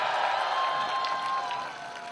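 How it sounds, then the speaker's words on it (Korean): A crowd applauds at a presidential campaign rally in Daegu, South Korea, a dense wash of clapping and cheering that fades slightly toward the end. "시민 여러분 다시 한번 뜨거운 박수로 맞아주시기 바랍니다."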